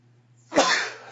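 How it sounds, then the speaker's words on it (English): A single sharp human sneeze bursts out over a faint low hum in a quiet indoor room, then trails off into a breathy tail. "excuse me, I had to sneeze"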